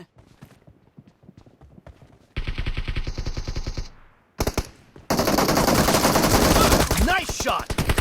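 Gunfire in PUBG Mobile team deathmatch: rapid, loud automatic bursts, first a sustained volley, a brief pause with a few shots, then a longer dense stream of fire, with faint game sounds before it begins.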